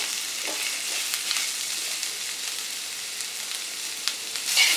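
Onions sautéing in a pan with green chillies for a Tirunelveli village-style kootanchoru, giving a steady broadband sizzle with occasional soft stirring scrapes, close and continuous throughout.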